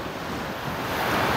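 Wind and ocean surf on the beach at Dreams Playa Mujeres resort in Cancún, a steady broadband wash of waves with gusty wind buffeting the microphone, swelling slightly louder toward the end, no voices.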